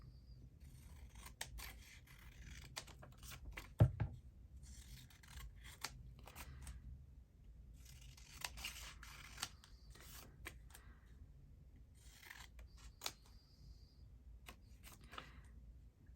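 Scissors snip out pages for an antique document journal, giving quiet, close, irregular cutting and rubbing sounds in short bursts with pauses between them.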